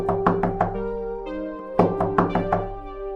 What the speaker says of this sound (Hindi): अचानक उसको गेट खटखटाने की आवाज आती है।